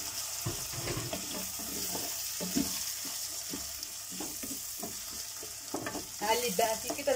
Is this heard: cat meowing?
no